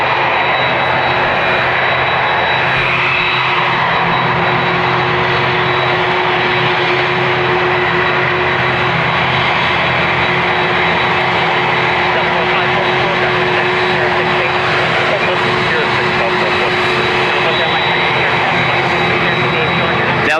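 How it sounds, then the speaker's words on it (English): An ATR turboprop airliner comes in to land at Dublin Airport, its propeller engine drone steady and fairly loud throughout, with a faint tonal whine riding above the broad roar. "There's a ATR about to land in front of this ATR."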